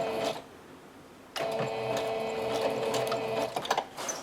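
A sewing machine stitches a zigzag onto a paper bag in two steady, close bursts of buzzing, rattling mechanical whir, separated by a brief pause, with some crinkling and handling noise near the end.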